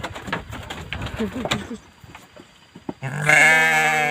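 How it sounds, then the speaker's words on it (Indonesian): Sheep on a village farm, with muffled shuffling and soft calls at first, then one loud, close, wavering bleat that fills the final second. "di sini ada beberapa domba tuh"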